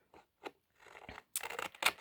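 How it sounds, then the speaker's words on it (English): Scissors snip around the flap of a paper envelope in a Christmas craft, a few quiet, close, separate cuts followed by a quicker run of crisp snips. "you're just going to cut right around the edge of the flap of your"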